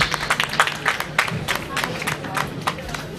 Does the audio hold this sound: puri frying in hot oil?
no